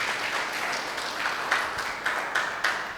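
A church congregation applauds, steady crowded clapping that fills the space at an even level for several seconds, with a few louder individual claps standing out.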